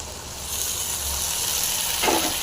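Sliced onion sizzling in oil for brinjal kara kuzhambu, a loud continuous frying hiss with a brief stirring scrape near the end and no talk.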